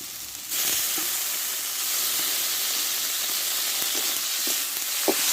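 Taro stems sizzle in a pan with spices, a little sugar and fish head, giving a steady close hiss of frying broken by soft stirring clicks, with no talking.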